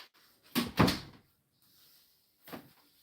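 Two dull knocking thuds against a door, the first a quick close pair and the second a single blow a moment later, fairly near, with no talk.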